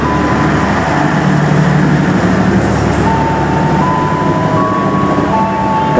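A steady, loud rumble of the Argo Parahyangan train rolling into a station platform, bound for Bandung, with continuous wheel and engine noise and faint tonal whines layered over it.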